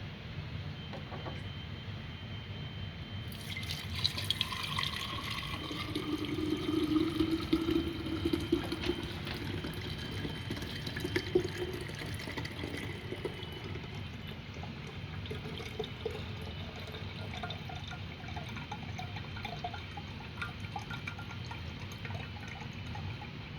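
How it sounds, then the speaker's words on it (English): Kombucha vinegar poured through a filter into a glass mason jar, a steady soft trickle of liquid with faint drips and small clinks from the jar and handling, no voices. "So we're going to filter this into this mason jar here so we can get ready to infuse this vinegar."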